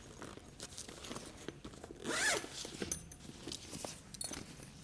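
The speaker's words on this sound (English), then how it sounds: "And then just zip it back up." A backpack zipper being pulled closed on its main compartment, a short, close rasping zip about midway through, framed by quieter handling rustles and small clicks.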